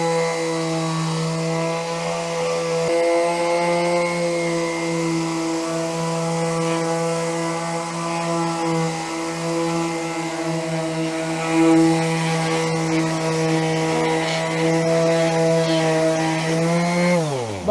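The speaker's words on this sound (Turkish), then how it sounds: "Biz zımparayla bu pürüzü gidereceğiz." A Stanley electric sander smoothing a rough surface gives a steady, droning whine at a constant pitch, close and loud, winding down at the very end.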